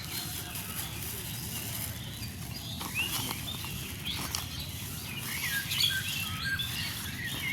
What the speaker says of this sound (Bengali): পাখি চলে এসছে খেতে।